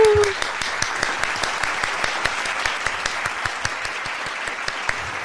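A canned applause sound effect plays on a podcast, a steady run of clapping with sharp, regular hand strikes from a small crowd lasting several seconds, with a brief voice at the start.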